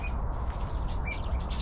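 Bird calls at a zoo enclosure on Yelagin Island, with a pheasant among the birds: a few short, thin chirps stand out over a steady, noisy outdoor background.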